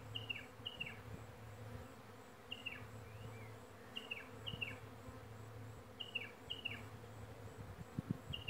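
Bees buzz steadily close by as they are removed from a wine barrel, a continuous hum with repeated short chirping calls in the background.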